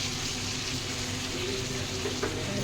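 Water poured into a pan of frying fish curry with potato and tomato, a steady rushing pour over continuous sizzling, close and fairly loud, with no talking.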